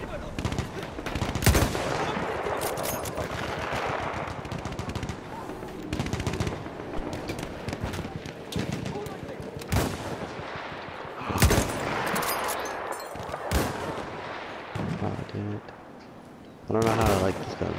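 Gunfire in the video game Battlefield 1, with repeated loud shots and bursts spread across the whole stretch in an uneven rhythm, some heavier blasts mixed in, and players talking over the shooting.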